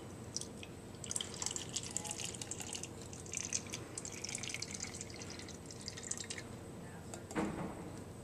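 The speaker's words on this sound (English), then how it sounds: "we're going to add about 1/3 of the can full of water." Water trickles and drips into an aluminum can, filling it about a third full, a light splashing patter running for several seconds before a brief louder splash near the end.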